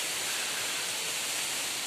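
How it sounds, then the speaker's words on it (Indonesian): A waterfall near Kediri, Indonesia, gives a steady, even rush of falling water, heard alone and fairly close with no talk. "Air terjun dulu."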